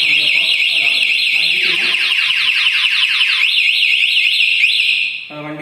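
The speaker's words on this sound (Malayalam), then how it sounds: "നമ്മൾ ലോക്ക് ചെയ്ത് കഴിഞ്ഞു കഴിഞ്ഞാൽ വാഹനം പിന്നെ ആരെങ്കിലും വന്ന് ഇറക്കാനോ അതുപോലെ വണ്ടി നീക്കാനോ ഉദ്ദേശിച്ചു കഴിഞ്ഞാൽ അത് അലാറം അടിക്കും" A Joy e-bike Wolf electric scooter's anti-theft alarm blares loud and close, a rapid, high-pitched warbling siren that sweeps up and down continuously before cutting out near the end.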